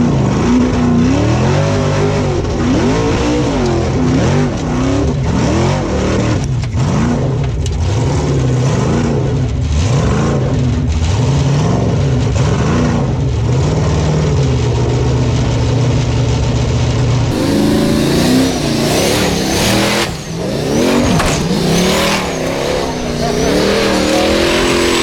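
Unlimited-class Formula Offroad cars race in Akureyri, Iceland, engines roaring loud and close with repeated revving swells and gear changes, a commentator talking over the din, and the engine noise growing brighter and harsher near the end.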